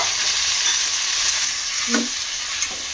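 Tomato pieces and ginger frying in oil for alam chutney give a steady, even sizzle with a faint clink of stirring near the end.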